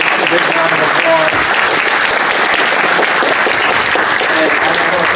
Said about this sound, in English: Give all of the candidates a big round of applause.